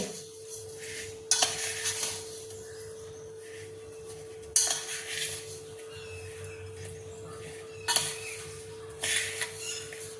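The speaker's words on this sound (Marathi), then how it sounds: "हे बाई चमच्यानं हलवलं आता आता हे मिक्स केलं" A spoon stirring a lemon pickle mixture in a pot, with short bursts of scraping and clinking separated by pauses over a steady low hum.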